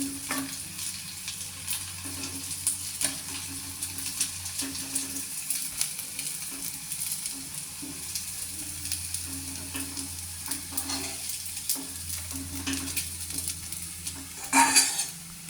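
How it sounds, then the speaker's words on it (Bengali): Gandha pata leaf fritters fry in hot oil with a steady, close sizzle. Now and then a utensil clinks and scrapes as the fritters are lifted out one at a time, and a louder burst comes near the end. "একটা করে বড়া নামিয়ে নিচ্ছি"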